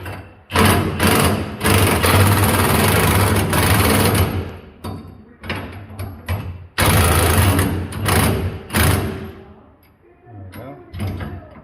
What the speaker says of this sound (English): I'm just running these nuts up.